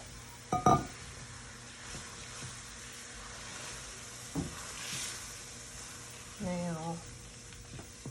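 Milk and water hit a hot pan for breakfast gravy, giving a steady, faint hiss and sizzle throughout, with a few clinks of a utensil and brief bits of nearby talk.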